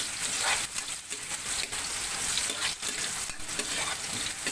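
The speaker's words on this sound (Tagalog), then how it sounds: "Kapag brown ng ating bawang, napakabango ng gisa." Garlic and onions sautéing in a pan for a rural Pampanga adobo, a close, dense sizzle with stirring scrapes throughout, no voices.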